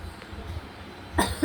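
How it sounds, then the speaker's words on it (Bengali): A quiet background gives way to a short burst of a child coughing with a cold near the end, close and sharp, two quick coughs. "সর্দি কাশি এগুলো হয়ে গেছে, কাশি দিচ্ছে"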